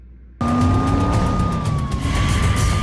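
A police siren wails steadily with a slowly gliding pitch, loud and close, over the rumble of a moving car's engine and road noise, heard from a dash cam during a pursuit.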